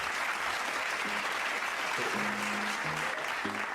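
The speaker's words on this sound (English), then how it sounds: "We'll get the applause." Applause sound effect, a broad steady wash of clapping at moderate level running throughout, with faint tonal hums and a voice briefly under it.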